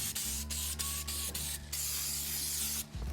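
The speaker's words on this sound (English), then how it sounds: "just a little bit of spray," Detailing spray misted onto a motorcycle from a trigger bottle, quick repeated hissing squirts close by over a steady low mechanical hum, ending with one longer burst.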